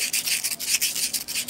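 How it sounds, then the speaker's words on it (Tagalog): Close, steady back-and-forth rubbing of very fine sandpaper on a metal electric fan shaft, with a quick rhythmic rasp to each stroke and no voices. "Pinakapinong liha yung ating ginagamit"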